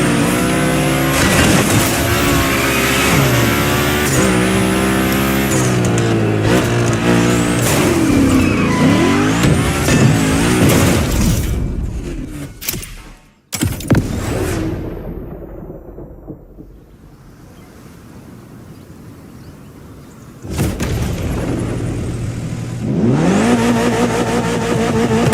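A Mitsubishi Evo drives in The Crew Motorfest, its engine loud and steady with revving and tire noise, then dropping away to a quieter stretch before the loud engine returns near the end.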